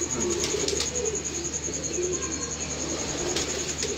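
Racing pigeons coo in a continuous soft, throaty murmur, several birds close by, with a few faint chirps and no voices.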